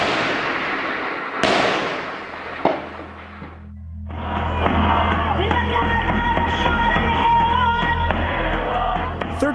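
Gunfire in a war zone in Syria, a couple of loud sharp cracks with decaying echoes, then a dense, continuous rumble of noise and raised voices.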